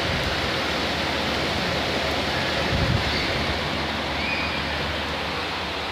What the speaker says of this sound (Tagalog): Lakas ng ulan. Ang lakas ng ulan eh.